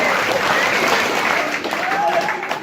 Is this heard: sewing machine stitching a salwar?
no